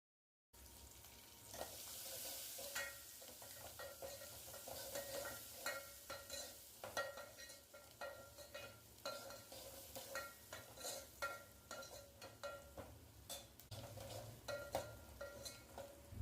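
Onion pieces with ground cumin-fenugreek powder and turmeric stirred in a hot pan, repeated spoon scrapes and clinks over a low sizzle across several seconds, close up with no talking.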